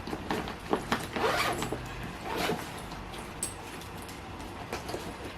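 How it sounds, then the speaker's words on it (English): A zipper on a Ju-Ju-Be diaper bag is pulled in several quick, uneven runs, close and fairly quiet, with short rasping bursts and pauses between them. "Even you can zip everything up."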